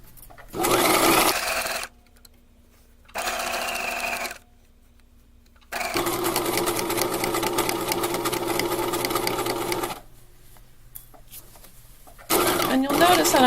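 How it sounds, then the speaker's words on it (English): A sewing machine stitches around the edge of a tote bag pocket, running in loud mechanical bursts split by short pauses. One long steady run slows at the rounded corners. "you're going to continue sewing around the edge of the pocket all the way around"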